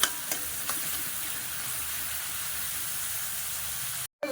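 Chopped raw onions fry in hot oil in a pan for a chana dal curry, giving a steady, close hiss of sizzling with a few faint clicks and a brief cut near the end.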